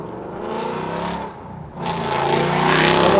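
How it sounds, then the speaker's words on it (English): Cars at an outdoor parking-lot car show rev their engines, a steady roar that dips briefly, then swells louder and rises toward the end, with no talking. "The revs have begun,"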